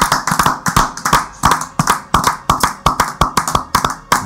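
A small group claps in quick rhythmic bursts of acclamation during a radio prayer broadcast, the sharp, close, uneven slaps continuing steadily with no voices.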